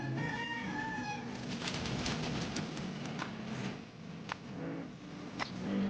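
Racing pigeons cooing softly at their loft after returning from a training race, a steady low murmur of coos with occasional wing flutters and faint background noise throughout.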